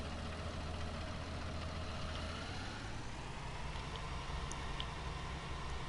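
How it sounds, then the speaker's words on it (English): A tractor engine idles steadily nearby out in a big field, a continuous low rumble with a slight shift in pitch partway through. "Nope, tractor just moved again."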